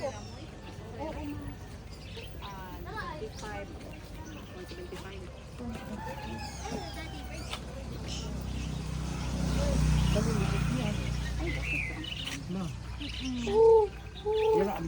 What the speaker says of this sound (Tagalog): Anong tawag dyan? Lovebirds.